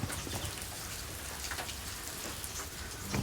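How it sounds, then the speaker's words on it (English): Steady rain from the first good rains of the season patters evenly on surfaces outdoors, a soft continuous hiss with no voices. "That is called rain."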